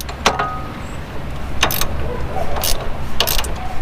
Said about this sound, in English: I just bought these ratcheting wrenches, and look at them already helping out